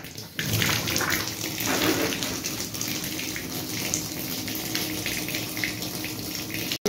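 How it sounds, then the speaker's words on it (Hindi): A floor mat is scrubbed clean at home under a steady stream of running water, a continuous loud gush and splash that runs throughout with no talking. "देखो मैं अब उसी को इस तरह से धो रही हूँ"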